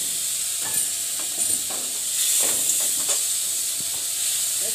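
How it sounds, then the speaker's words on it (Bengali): Turmeric and chili paste fry in a pan with a constant hissing sizzle while a utensil stirs through it, adding a few soft scraping strokes close by. "একটু নাড়াচাড়া করবো।"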